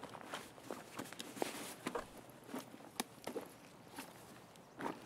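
Footsteps in the video game Escape from Tarkov on the Customs map: a steady series of soft, crunchy steps with occasional sharper scuffs, moderately close over faint ambient noise, no talking.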